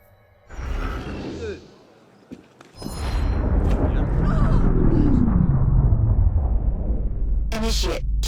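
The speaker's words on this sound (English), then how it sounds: "I'm sorry about all this noise. There's a waterfall of signal distortion." Crackling signal distortion on a radio link in Assassin's Creed Unity, with bursts of static and whooshing noise, a dip and then a sustained noisy wash with brief crackles near the end.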